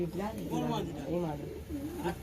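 Giribaj pigeon with pale stone-coloured eyes cooing close by, a few soft throaty rolling coos in a row.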